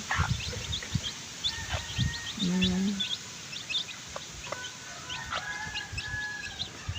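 Chicks cluck and chirp intermittently at close range over a background hum, with one louder squawk partway through.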